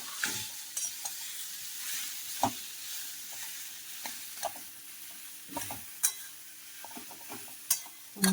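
Chopped potatoes sizzle steadily in a little oil for Mumbai-style vada pav, with a spoon scraping and stirring through the pan at irregular intervals, close and fairly quiet.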